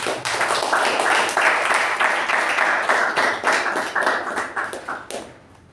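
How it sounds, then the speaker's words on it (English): A Toastmasters meeting audience gives a round of applause for three evaluators, a dense, steady patter of many hands clapping for about five seconds before fading out. "can we have a round of applause for all the 3 evaluators"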